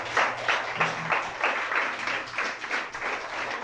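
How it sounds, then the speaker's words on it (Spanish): A church congregation applauds, a dense and steady wash of many hands clapping that goes on without a break, loud and close, with a faint low hum underneath. "Denle un aplauso a nuestro Dios."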